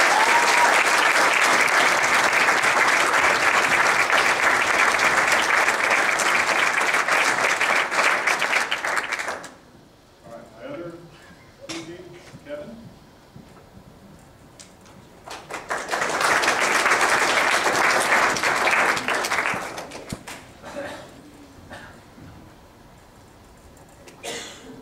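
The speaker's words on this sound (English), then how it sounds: "let's just give them a round of applause." A church congregation on a Colorado mission trip gives a loud, sustained round of applause that fades out, a quiet stretch with light movement and coughs, then a second full burst of clapping that trails off.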